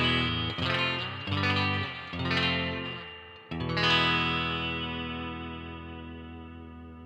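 A guitar played through a simple reverb effect: a few strummed chords, each followed by a washy tail, and a final chord left ringing and slowly decaying over several seconds.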